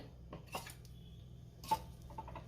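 Quiet metallic clinks and a brief clatter as the lid of a pressure cooker holding masoor pulao is handled and lifted off, close by and with no talk.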